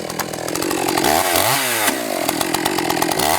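A motor chainsaw bores into a log with its lower bar edge, a loud, continuous engine snarl that bogs down in pitch mid-cut and then revs back up, with no talk over it.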